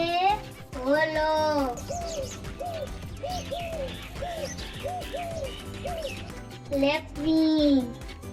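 A dove gives a run of about eight soft, evenly spaced coos, clear and close, with a voice talking just before and after the calls.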